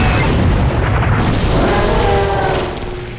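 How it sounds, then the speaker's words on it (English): Loud, booming artillery shell explosions in a Warhammer 40,000 tabletop battle, rolling into one another in a continuous heavy rumble, fading slightly toward the end. "High explosive shells rain down on the warriors"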